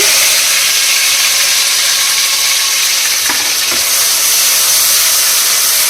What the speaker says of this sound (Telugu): మనం ప్రిపేర్ చేసుకున్న పచ్చి మసాలా ముద్ద కూడా వేసేసుకుని పచ్చి వాసన పోయే వరకు ఫ్రై చేసుకోవాలి